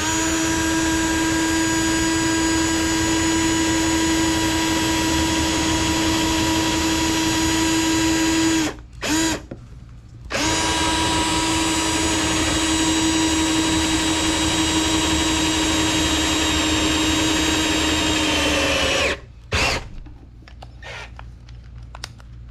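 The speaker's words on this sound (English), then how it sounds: "we're just going to drill through that till we get to the blue tape" Step drill bit driven by a power drill through a part on a Dodge Challenger Hellcat, a loud, steady high whine in two long runs, each stopping abruptly with a short pause between, then a few brief bursts at the end.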